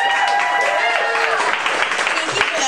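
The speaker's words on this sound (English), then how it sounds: "Big round of applause for Sara." A room of listeners applauds at a book reading while a voice speaks over the clapping, the dense patter staying steady for a couple of seconds.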